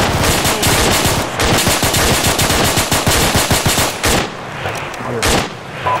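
Dense automatic gunfire from the Arma 3 video game, rapid bursts and overlapping shots crackling loud and close in a team-versus-team factory defense match, with a brief pause near the end before more shots.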